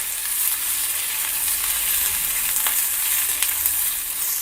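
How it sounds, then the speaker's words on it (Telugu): Onion pieces fry in a pan with a steady, close sizzling crackle throughout, with a few faint stirring taps and no voices. "ఉల్లిపాయ ముక్కలు కూడా వేసి వేయించుకోవాలి"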